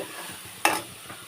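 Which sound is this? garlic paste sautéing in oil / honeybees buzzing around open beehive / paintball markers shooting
garlic paste sautéing in oil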